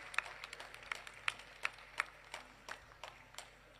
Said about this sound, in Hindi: एक बार फिर जोरदार तालियों से मैं चाहूंगा कि आप उनका अभिनंदन कर दें